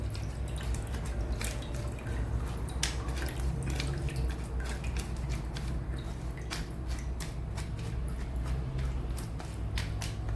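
Tamarind broth is strained for a milkfish dish, with liquid dripping and splattering continuously through the strainer, a dense, steady patter of close drops throughout.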